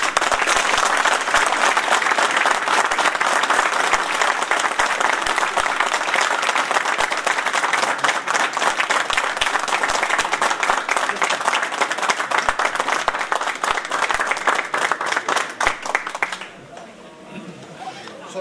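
Audience applause at an inauguration event, long and loud with distinct individual claps and some chatter and laughter in the crowd, dropping away abruptly near the end.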